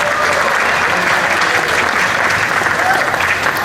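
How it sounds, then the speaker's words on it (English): Dense, steady applause from a large outdoor audience at the Hmong Wausau Festival, loud and continuous throughout with a faint voice underneath. "please give her a round of applause as well."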